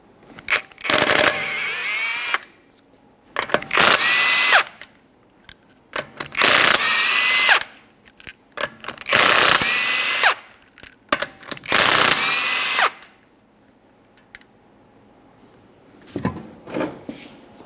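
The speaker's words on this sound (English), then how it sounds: "to remove the wheel, remove all 5 of your 21mm lug nuts." A power tool zips the 21mm lug nuts off a Toyota Sienna wheel in five loud, rattling bursts of about one to two seconds each, separated by short pauses and small clinks, close by.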